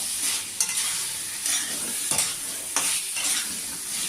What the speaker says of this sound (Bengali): এবার আলু দিয়ে আমি কিছুক্ষণ কষতে থাকি